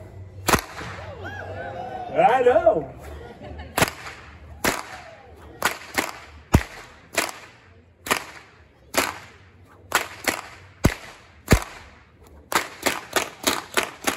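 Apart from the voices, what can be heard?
fire whip cracks at a festival show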